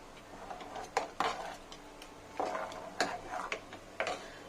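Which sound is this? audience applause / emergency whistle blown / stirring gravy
stirring gravy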